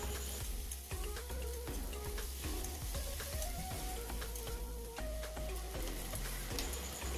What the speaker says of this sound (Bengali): এবার কেটে রাখা টমেটোটা দিয়ে দিচ্ছি, দিয়ে আবারও ভেজে নেব